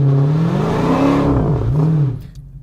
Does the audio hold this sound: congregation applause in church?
no